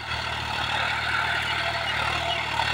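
A John Deere 5105 tractor with a 40 HP engine and 13.6-28 rear tyres drones steadily and loudly while pulling a cultivator through a field, its low engine hum continuous throughout.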